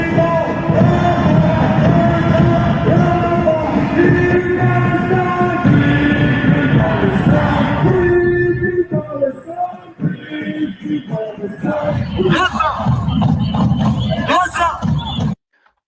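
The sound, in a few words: large crowd at a rally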